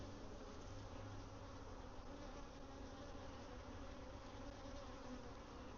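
Honey bees hum in a dense, steady drone at a hive as they bring in nectar, a continuous buzzing swarm at moderate volume with no voices.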